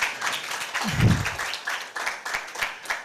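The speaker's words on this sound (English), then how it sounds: "Please, a round of applause, please." An audience at a young filmmakers' screening event applauds, steady dense clapping throughout at moderate distance, with a brief low thump partway through and no talking over it.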